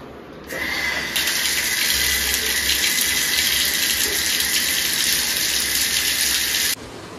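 Tap water gushes steadily through a newly fitted Waterscience filter tap into a sink, starting abruptly after a moment of quiet and cutting off near the end, loud and continuous with no talking.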